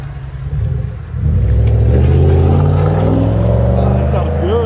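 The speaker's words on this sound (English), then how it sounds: "(2002) Lincoln Continental muffler delete" A 2002 Lincoln Continental with a 4.6L V8 and dual exhaust, mufflers deleted, idles with a deep rumble, then revs up loud and close and holds a throaty drone; a voice speaks briefly over it.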